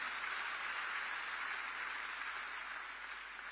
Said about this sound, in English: I think we need to clap for the EFZ.